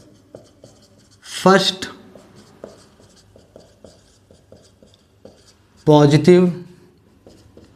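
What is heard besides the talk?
writing out a maths solution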